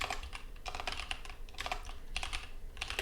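Fast typing on a computer keyboard, close and clear: bursts of quick clicky keystrokes with brief pauses in between, no voices over it.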